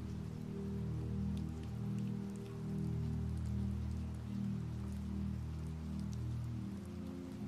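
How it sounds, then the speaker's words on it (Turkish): Gentle rain falls steadily at low volume, a soft continuous patter of drops over a low hum, with no voices. "Yağmur damlalarının hafif dokunuşu"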